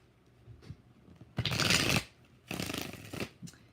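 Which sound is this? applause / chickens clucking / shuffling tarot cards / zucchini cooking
shuffling tarot cards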